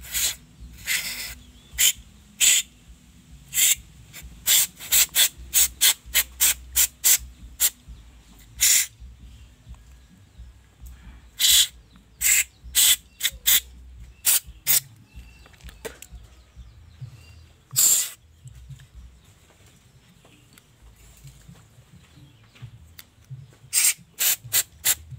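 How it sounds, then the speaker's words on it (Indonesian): Dirty Supra Fit motorcycle parts are scrubbed with cleaner in a series of sharp, brisk rubbing and spraying bursts, some in quick runs and others spaced apart, close by against a quiet background. "kita bersihkan dengan cleaner seperti ini"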